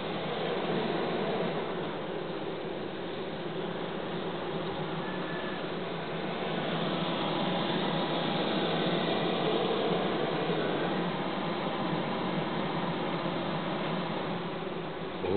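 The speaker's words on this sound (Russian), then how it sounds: "Вот так вот улик гудит." A honeybee colony hums inside a beehive at an apiary, a continuous, even drone close to the listener that holds steady for about fifteen seconds without speech.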